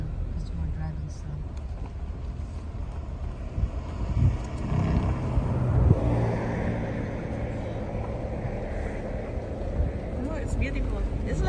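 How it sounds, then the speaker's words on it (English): A car driving slowly near the Sutter Buttes mountain range gives a steady low rumble with some wind noise, and people talk over it. "because we're driving slow"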